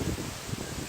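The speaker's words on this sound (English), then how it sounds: "the wind is definitely picking up" Wind picks up before Hurricane Lane, making a steady, fairly loud broadband rush with rustling through leaves over a short stretch. No one speaks.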